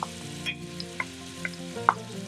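Thinly sliced onions fry in oil in a pan over medium-high heat, a steady close sizzle with a few light clinks of a utensil against the pan.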